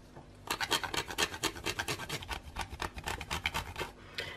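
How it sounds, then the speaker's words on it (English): Chocolate grated by hand on a grater for a no-bake keto dessert, giving a steady run of close, rhythmic rasping strokes, about eight per second, with no talking. "You'll find a little goes a long way when you're grating chocolate like this."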